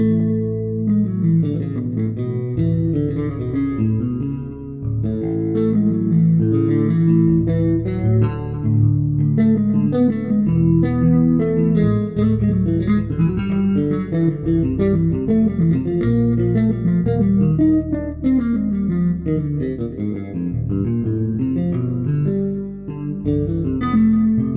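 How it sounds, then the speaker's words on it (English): An electric bass patch for HALion Sonic called Spherical Power, run through delay, amp, graphic EQ and reverb, plays a steady melodic line of echoing, sustained notes, loud and alone without voices. "We've got a delay and the amp graphic EQ and some reverb going on."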